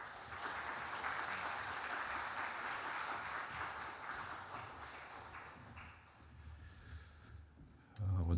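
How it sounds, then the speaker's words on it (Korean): A church congregation claps together to welcome a pastor at a Sunday afternoon service, a dense, steady patter of applause for about six seconds that thins out, with a louder thump near the end. "우리 목사님 나오실 때 우리 박수로 환영하며 맞이하겠습니다"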